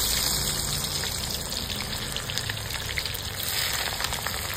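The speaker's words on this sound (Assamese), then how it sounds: "তাৰপিছত এতিয়া দিয়া গ'ল পিঁয়াজ।" Onions sizzle and fry in mustard oil in a pan for meat, a loud, steady, dense crackle with a watery hiss that persists throughout, close to the pan.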